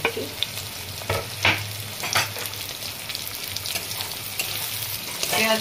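Chopped green chillies and onions sizzle in oil while being stirred for a Bengali chicken keema, a steady frying hiss broken by several scraping, clattering strokes of a spoon against the pan.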